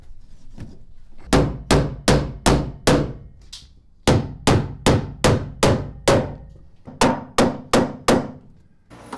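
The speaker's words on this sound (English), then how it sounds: "nail the PEX piping to the floor joist" Sharp hammer blows drive nails into a wooden floor joist, fastening PEX piping, in quick runs of four to six strikes, pausing between bursts, loud and close.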